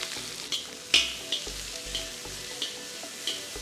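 Onion sizzling in hot oil with fennel seeds, curry leaves and two chillies for a village-style goat boti curry, a steady close crackle broken by a few sharp spatters and clinks.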